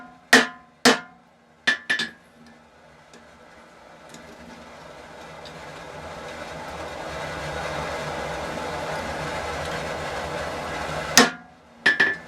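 Forge-welded steel takes a few sharp, ringing hammer blows near the start, followed by a long, rising mechanical whir, then another pair of loud metallic strikes near the end.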